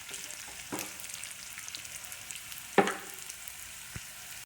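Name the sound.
onions frying in a pan for curry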